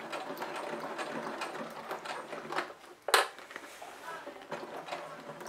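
A sewing machine topstitches a zippered crossbody bag, giving soft, intermittent mechanical clatter and ticking bursts at close range, with one sharper clack partway through.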